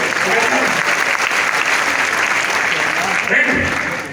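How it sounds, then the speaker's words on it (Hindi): Audience at a large RAS event in Gorakhpur applauding loudly, a dense, sustained wash of clapping filling the whole stretch at close range before easing slightly at the end. "एक बार जोरदार तालियां मैडम चाहिए।"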